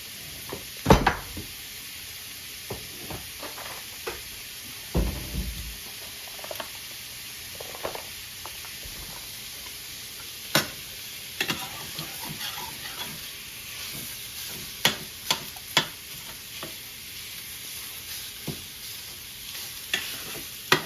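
Sausage browning in a frying pan for sausage gravy, with a steady faint sizzle and repeated scraping clicks from stirring, spaced irregularly throughout.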